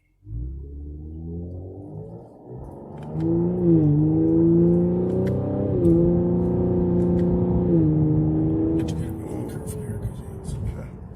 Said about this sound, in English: So that right there is me downshifting with the